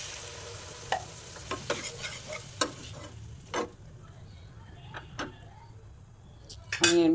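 Vegetables frying in a pan after a little water is added, a quiet steady sizzle with sparse sharp clinks and scrapes of a utensil against the metal, ending in a louder clatter.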